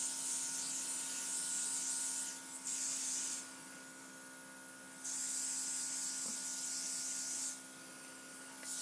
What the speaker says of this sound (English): And spray the whole face